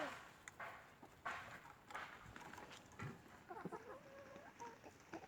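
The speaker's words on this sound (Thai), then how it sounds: "แม่ดูไก่ดิ" Chickens in a home vegetable garden cluck softly in the background, with faint, irregular short calls and a brief run of clucks near the end over a quiet outdoor setting.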